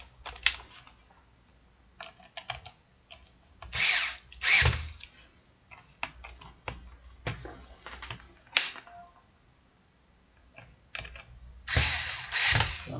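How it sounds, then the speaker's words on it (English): Small screws being driven into a Dell G3 3500 laptop chassis, including the hinge screws, with intermittent whirring bursts of a small electric screwdriver separated by quiet gaps and light handling clicks, close up. "But we'll put a few screws in and tighten some down."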